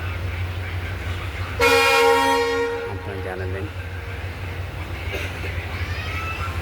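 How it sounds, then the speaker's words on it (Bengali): A train rumbles along steadily between Haldibari and Siliguri, a loud horn blast sounding for about two seconds, with a person speaking briefly over the running noise. "আবার ট্রেন চললো।"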